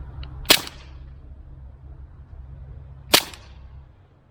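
A Cybergun Taurus PT24/7 G2 airsoft pistol fired outdoors, two sharp snapping shots about two and a half seconds apart, close and loud above a low rumbling background.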